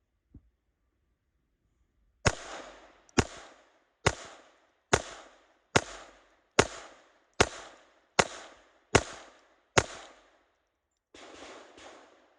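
Glock 44 pistol fired while held inverted: ten sharp, loud shots at a steady pace of roughly one per second, each ringing briefly, followed by a short burst of rattling noise.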